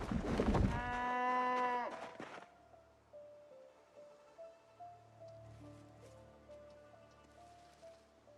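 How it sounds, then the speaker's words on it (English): A loud bleating cry from a farm animal in the survival game Project Zomboid, kept with pigs and a cow and her calf, opens the clip, followed by softer repeated low grunting calls over quiet, steady ambience. "We got the piggies here. We got our cow Mabel, her baby Sasha."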